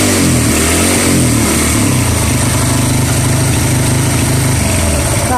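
A motorcycle engine held at around 4000 RPM with a 12-volt full-wave charging conversion, revving loud and continuous up close with a steady droning tone and slight swells, no voices.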